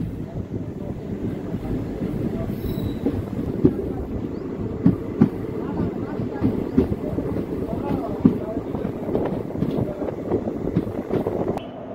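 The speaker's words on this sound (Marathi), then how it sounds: "गाडी संख्या 11414 निजामाबाद एक्सप्रेस बार्शी रेल्वे स्टेशनवरती 7:16 आलेली आहे" Nizamabad Express train 11414 pulling into Barshi railway station, a steady low rumble with scattered wheel clicks and clanks, while indistinct voices murmur on the platform.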